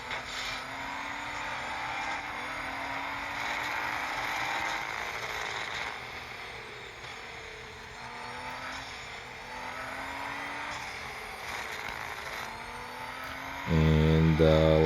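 A Nissan Z racing in a video game from the bumper view, a continuous engine drone rising and falling through gear changes and revs, steady and fairly loud, ending in a sharper, louder burst.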